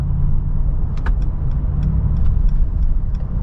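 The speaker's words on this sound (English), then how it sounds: "It's giving me good downshifting under braking." A Mercedes G63 AMG engine rumbles loud and steady from inside the cabin as it downshifts under braking, with light rattling clicks scattered over the drone.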